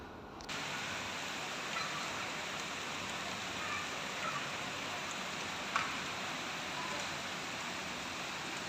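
Heavy rain pours down steadily and loudly for the whole stretch, a dense unbroken hiss with no other sounds standing out above it.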